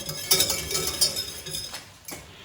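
A utensil stirs a boiling roux of butter and flour in a pan, producing soft scraping and light metallic clinks at an irregular rhythm, fairly quiet and close over faint kitchen background.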